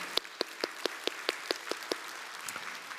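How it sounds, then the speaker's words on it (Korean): Clapping from a church congregation giving a round of blessing applause, heard as a sparse run of about eight separate, fairly quiet claps at an even rhythm that thins out toward the end, with no talk. "축복의 박수 한번 올렸으면 좋겠습니다"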